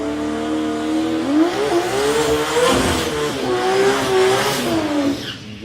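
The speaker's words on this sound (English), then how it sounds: "Wow, nice big burnout, fed on the throttle" A race car does a big burnout at a street challenge event, its engine revving hard and rising and falling in pitch while the tires squeal continuously, loud and close throughout.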